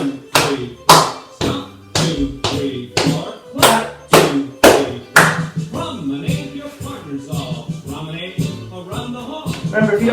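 Square dancers stomp and clap in a steady four-count pattern, with sharp, loud hits spaced about every half second, alternating heavy floor stomps and crisp claps, while a caller's voice chants the counts over them.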